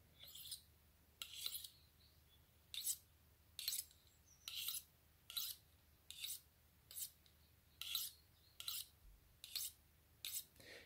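A fresh knife blade being sharpened for cutting leather strands, about a dozen evenly spaced rasping strokes, close and fairly quiet, with faint bird chirps in the background and no talking.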